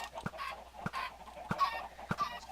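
Chickens on a Minecraft chicken farm cluck in short, separate bursts, about four or five spaced calls over a couple of seconds, fairly close and with no talk.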